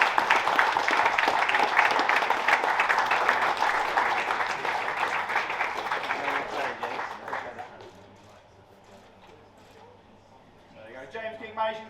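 Crowd applause and cheering at a DMAX Nationals endurance race prize-giving for the lightweight champion, sustained and dense for several seconds before tapering into quieter chatter and a brief spoken voice at the end.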